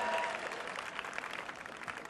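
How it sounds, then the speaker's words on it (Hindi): An audience claps to welcome a guest's mother onto the stage at a motivational event, a steady, moderately distant applause that fades slightly toward the end. "एक बार जोरदार तालियों से सुप्रीत की गौरवशाली माँ का स्वागत और अभिनंदन इस मंच पर करें।"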